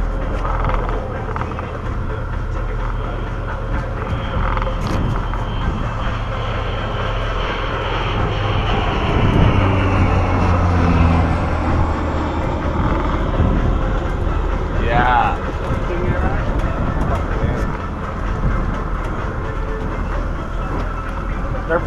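Airliner engine drone heard from inside the cabin during flight, a steady loud roar with shifting throttle swells and people talking over it.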